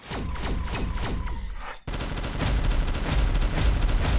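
Point defense guns in a space combat video game fire rapid bursts of sharp shots, a quick rattling sequence, then a brief cutoff before a denser, louder barrage continues to the end.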